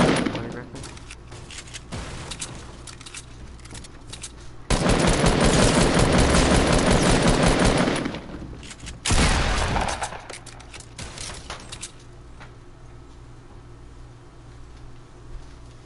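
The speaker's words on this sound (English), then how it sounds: "Here's a thermal gun, the thermal scoped assault rifle." A thermal-scoped assault rifle fires in a battle royale video game. Loud sustained bursts of automatic gunfire dominate the clip, with the heaviest stretches in the middle and a voice talking over parts of it.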